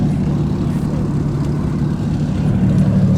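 A loud, steady low engine drone from an Aston Martin DBS being revved in a rev-off contest at a supercar weekend, holding a constant roar for the whole stretch without breaks or distinct blips.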